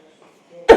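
A single sharp, close cough from a sick person bursts out after a near-silent moment.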